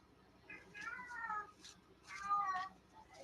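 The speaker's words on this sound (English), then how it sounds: "And my cat is meowing." A pet cat meows twice nearby, two drawn-out, wavering calls about a second apart, over a quiet indoor background with no talking.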